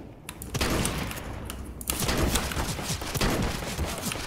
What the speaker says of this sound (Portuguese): Não é possível, 3 tiros de shotgun, o cara não morreu.